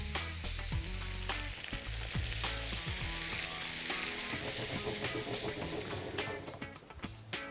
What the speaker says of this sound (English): we're just going to fry these off for a couple of minutes until we start to get some colour